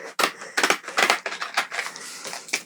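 Scissors cutting a plastic sheet used as backing for a moss pole, a run of close, crisp snips and crunchy cuts in quick irregular rhythm, with no one talking.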